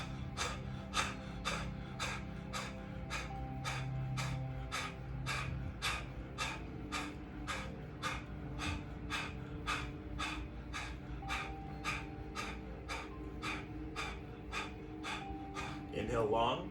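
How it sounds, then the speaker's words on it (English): Rapid, even breath-of-fire yoga breathing, with sharp nasal exhales pumping in a steady rhythm of about two per second, close and continuous throughout, over a faint low background hum. "inhale here, and exhale, begin the breath of fire."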